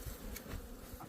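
Honey bees hum steadily as they fly around their beehives outdoors, a soft, continuous buzzing swarm drone heard alone at low volume.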